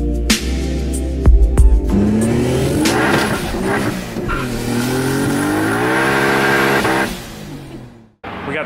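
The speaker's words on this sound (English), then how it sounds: "I am happy about tuning a car on the dyno right now." A Toyota Supra sports car engine revs hard on a dyno and holds a loud, climbing roar for several seconds before cutting off abruptly, with a brief rev afterward.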